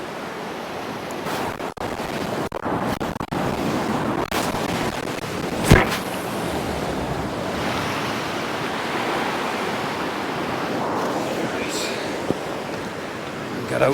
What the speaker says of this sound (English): Get out the way before the next wave takes us out.